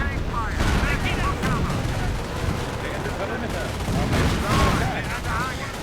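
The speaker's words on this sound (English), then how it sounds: "More artillery on the Nebelwerfer." Artillery and gunfire in a World War II real-time strategy game, a dense, continuous rumble of distant explosions and rattling shots layered together, steady and loud throughout.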